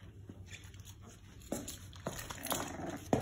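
Pitbull puppies, one blue nose and one red nose, play and bite each other indoors, giving off soft scuffles, small yips and short growly bursts that grow a bit louder toward the end, fairly quiet overall.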